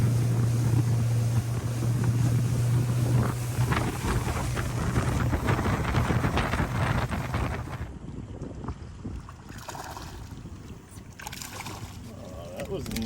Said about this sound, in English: I ain't even got the motor turned off yet.